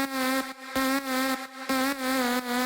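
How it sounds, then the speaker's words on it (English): A bright, buzzy trance synthesizer lead in FL Studio holding one pitch, pulsing in a choppy rhythmic pattern of short and long bursts, loud and alone. "this is the bass, I mean the lead sound."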